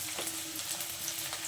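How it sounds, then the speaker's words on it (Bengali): Onions fry in a pan with salt, chili powder and turmeric for chickpea bhuna, giving a soft, even, continuous sizzle, low in level and steady. "ভালোভাবে ভেজে নেব পেঁয়াজটা"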